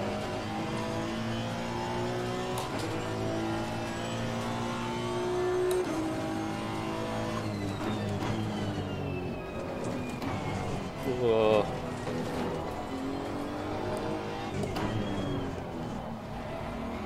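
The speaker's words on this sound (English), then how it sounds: "Actually hear the turbo spooling up" A race car at the Paul Ricard circuit accelerates, its engine rising in pitch through the gears while a turbo spools up with a thin rising whine. Someone talks over the engine throughout.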